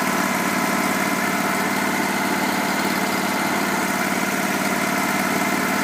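A Hobart Champion Elite 225 engine-driven welder idling nearby, a steady loud mid-pitched engine drone with even vibration and no speech.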